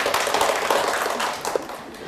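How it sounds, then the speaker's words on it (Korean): Students in a Korean civil-law lecture for the real estate agent exam clap as a class greeting, a brief, moderately loud patter of many hands with scattered sharper taps. "박수 한번 쳐주시고요"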